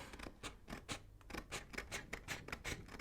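Sticker-gummed scissors snipping through planner stickers, a quick series of close, crisp cuts and scrapes in an uneven rhythm, faint and alone.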